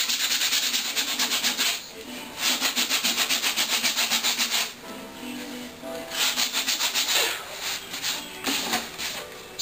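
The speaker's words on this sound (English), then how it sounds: "take some old sandpaper and just kind of rough it up and try to smooth it down a little bit" Hand-sanding hardened bondo on a raw cast part with old sandpaper, rhythmic scratchy back-and-forth strokes in close bursts, pausing midway before resuming.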